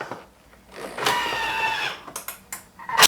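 A Thermomix grinding sunflower and pumpkin seeds, a short loud whirring burst of about a second followed by a few rattling clicks and knocks.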